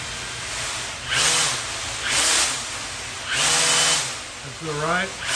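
The propeller motors of a small drone whine up and down in several surges, a high buzzing hiss rising and falling in pitch close by, with a steady electrical hum underneath.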